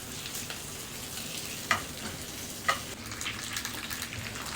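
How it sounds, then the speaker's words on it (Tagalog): Pork stick sautéing in a pan gives a steady, low-level sizzle and frying hiss throughout, broken by two brief sharp clicks of a utensil against the pan, with no one talking. "Tapos nagisa na ako dito."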